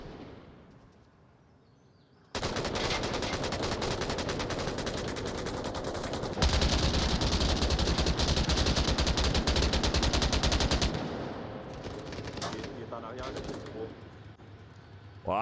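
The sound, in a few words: gunfire in the VR video game Onward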